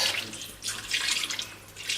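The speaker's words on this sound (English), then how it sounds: "a wee drop of water. I don't want to add too much." Water poured from a tap or jug into a pot of Jamaican beef stew, a short splashing, gurgling pour that runs steadily for about two seconds, close and moderately loud with no talking.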